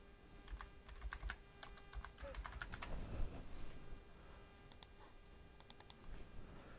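Bursts of quick keystrokes on a computer keyboard as a folder name is typed, close and fairly quiet, clustered clicks separated by short pauses.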